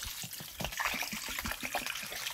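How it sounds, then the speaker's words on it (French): Water, about five litres, poured into a large paella pan over a wood fire, a continuous splashing trickle with rhythmic gushing pulses, close and fairly quiet. "quand on en est à cette étape-là où ça a commencé à cuire, on en rajoute l'eau"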